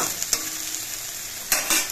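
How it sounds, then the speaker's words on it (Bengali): Water lily stems (shapla) fry steadily in a pan with a close, continuous sizzle, broken by a few sharp clinks and stirring scrapes. "শাপলাটা কিন্তু আমি বেশ কিছুক্ষণ ভাজা ভাজা করে নিয়েছি।"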